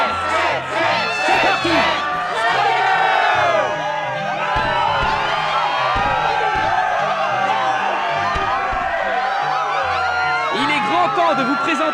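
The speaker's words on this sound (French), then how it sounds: "La foule est en délire." A roaring arena crowd in the Kingdom Hearts II game cheers and whoops continuously, loud and dense, with shouts piling on top of each other throughout.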